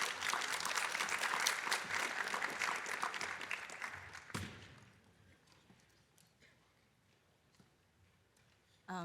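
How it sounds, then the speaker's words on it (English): Audience applause at a plenary session of a space-flight conference, dense clapping that swells, then breaks off and thins to a few scattered claps and quiet room noise. "Welcome with a warm applause."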